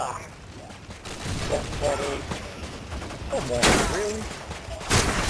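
Call of Duty: Modern Warfare 2 gunfire crackles in scattered bursts and mechanical clacks amid game noise, with a few sharper, louder shots near the end and a person briefly speaking over it.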